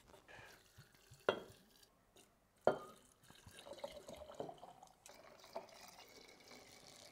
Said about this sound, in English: fill them up with whatever clear spirit you're going to use